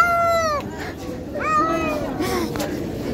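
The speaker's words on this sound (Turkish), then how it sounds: "Gördüğünüz gibi Davut Davut diye bağırıyor" A cat gives two drawn-out, pitch-bending yowls close to the mic, each sliding down at the end as if mouthing a word, with a brief gap between them.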